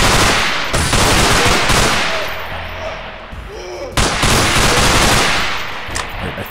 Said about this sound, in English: I don't know what I'm shooting at